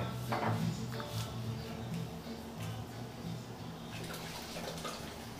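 A pot of water with lemon, bay leaves and white wine boils for cooking lobster, giving a soft, steady bubbling and gurgling with small splashes, fairly close and quiet.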